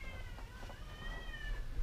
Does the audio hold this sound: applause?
no